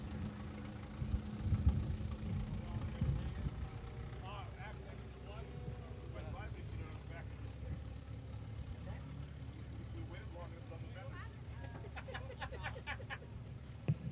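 A Huber L standard-type antique tractor engine runs at a threshing-show parade, giving a low, steady mechanical rumble that continues under an announcer's voice and background crowd noise.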